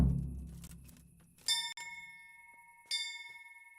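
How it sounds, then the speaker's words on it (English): A bell rings twice in Kingdom Come: Deliverance, each a bright metallic strike with a long ringing tail, the second a little weaker, following low rumbling game ambience. "Bell."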